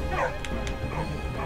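A dog barking in the World War I video game Valiant Hearts: The Great War, a couple of short yips and whimpery barks over a dense, continuous game soundtrack and ambient background noise.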